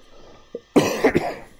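A single close cough during a live-streamed calculus lecture, preceded by a faint short throat sound, then a harsh burst with a second rough pulse trailing off.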